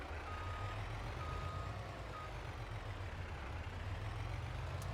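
A truck in the video game Farming Simulator reversing, its steady high beeps repeating over a constant low idling engine rumble, loud and close with no one talking.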